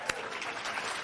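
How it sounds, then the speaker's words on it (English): Applause from an audience at a women's awards ceremony honoring community honorees, a steady dense clapping heard from a moderate distance, with one sharper clap standing out near the start. "give them a round of applause"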